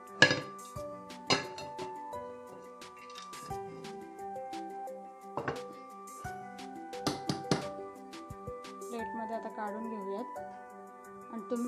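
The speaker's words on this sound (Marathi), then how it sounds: "आता मी ह्या कडा सोडून घेते." Metal knife or spatula scraping and knocking around the rim of a pan to free a cooled baked mango semolina (rava) cake, giving scattered clinks and taps with someone talking throughout.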